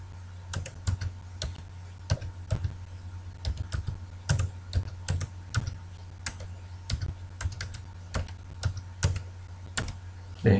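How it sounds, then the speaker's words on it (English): Keystrokes on a computer keyboard as a password is typed into a Gmail sign-in page, coming in irregular bursts of quick, close clicks with brief pauses, and no voices over them. "Now it's asking us for the password, so you simply type in a password."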